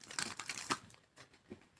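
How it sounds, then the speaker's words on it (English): Tarot cards being shuffled by hand, quiet close-up papery riffles and soft crinkly bursts in quick succession, with no talking. "Go ahead and ask your question as I shuffle these cards."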